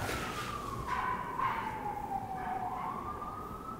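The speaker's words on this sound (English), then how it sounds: "Also, there's a siren" A siren wails in the distance, its pitch sliding slowly downward and back up over a background hum.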